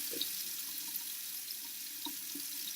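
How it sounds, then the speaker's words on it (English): Water running steadily from a bathroom tap into a sink while a face is washed, a soft continuous hiss with a few faint splashes, close and unaccompanied by talk. "I'm gonna wash my face"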